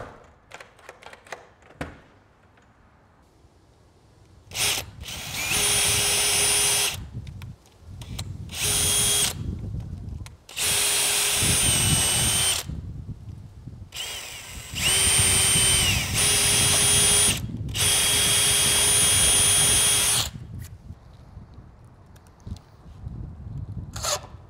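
Power drill driving security screws into an external door frame, several sustained whining runs of a few seconds each separated by short pauses, close and loud.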